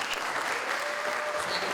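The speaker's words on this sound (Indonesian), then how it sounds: "Tepuk tangan buat kalian semua." A crowd claps in a steady, dense patter, fairly faint and distant, sustained for a short burst.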